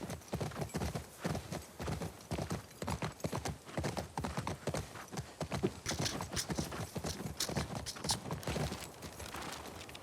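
Horse hooves clip-clop in the video game The Last of Us Part II, a brisk, continuous run of sharp hollow knocks, close and loud throughout with no talk.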